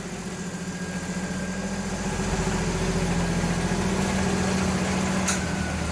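A 1960 Chevrolet Biscayne engine, fitted with a modern internal-regulator alternator and improved radiator, idles smoothly and evenly up close, a steady low rumble with no ticking and no voices.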